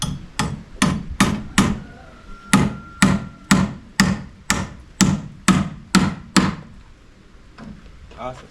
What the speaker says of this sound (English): nailing them together actually.